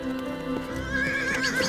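A New Forest pony gives a loud, rising whinny outdoors while its hooves clip-clop steadily underneath, close by, with no talking.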